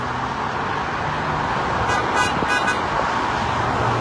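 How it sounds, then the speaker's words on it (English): Car horns honk from passing traffic at a roadside bridge rally, a few short toots over a steady wash of road noise, clustered in the middle of the stretch. "Lots of honks coming."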